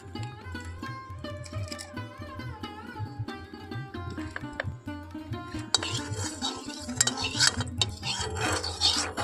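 White oil is spread around a kadai pan over a gas flame, giving a continuous scraping and rubbing of a utensil against the metal that grows louder and more rasping toward the end, with no voices over it.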